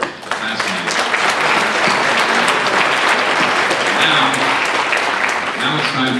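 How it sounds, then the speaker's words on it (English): An audience at a seniors forum gives loud, sustained applause, many hands clapping densely in a hall with a few voices mixed in. "I think we ought to give a round of applause to Ted Meyerson and his team"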